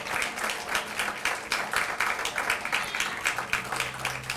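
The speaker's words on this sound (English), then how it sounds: "You all, give them a round of applause." An audience at the 2025 Oak Park Juneteenth Celebration applauds the event's planning team with a steady, dense wash of many hands clapping that holds for the whole stretch.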